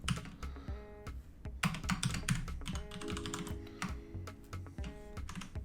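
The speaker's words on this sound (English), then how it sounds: "Helps if I can type." Rapid, uneven typing on a computer keyboard while a web part is styled through a style tag, with dense clusters of close key clicks in bursts over about six seconds and no voice.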